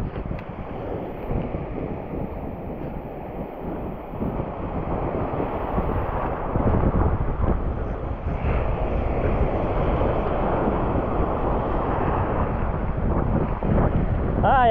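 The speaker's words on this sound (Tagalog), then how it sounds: "Sobrang lakas mga master ng hangin kung naririnig nyo" Powerful gusting wind buffets the microphone outdoors in an unbroken, loud roar that builds slightly after the first few seconds and stays heavy throughout, with no voices.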